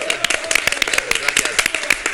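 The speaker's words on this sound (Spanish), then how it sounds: "Por favor, un aplauso." Studio audience on a late-night talk show applauds a guest telenovela actor, a steady run of sharp overlapping hand claps close and fairly loud, with voices speaking under it.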